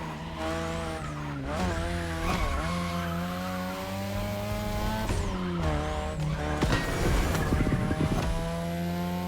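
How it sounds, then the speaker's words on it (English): A 3rd Gen 2002 Mazda RX-7 with a rotary engine races in The Crew Motorfest in Tokyo, its engine note rising and falling through gear changes while tires squeal and skid, loud and continuous. "Tonight your ride is a 3rd Gen 2002 Mazda RX-7. Lightweight, compact, a sick rotary engine, and one hell of a look."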